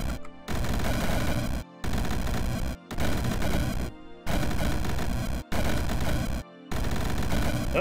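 Explosions in the video game Rift Wizard, loud dense bursts of blasts and crackling impacts in rapid, overlapping volleys, broken by several brief silent gaps.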